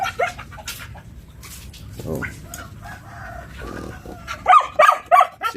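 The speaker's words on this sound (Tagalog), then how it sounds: "Alaga akong aso dahil tagabantay." A dog barks a few times amid farmyard sounds, with a rooster and clucking hens nearby and faint voices in the background.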